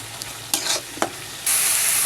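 Masala is sautéed and stirred in a pan for an aloo puti fish bhuna, with steady sizzling and a few sharp scraping strokes, the frying swelling louder and hissier in the last half second.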